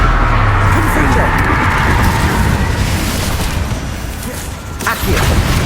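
A Confringo spell blast in Hogwarts Legacy, a loud booming burst followed by rumbling crackle that fades and then flares again near the end, with a shouted voice mixed in.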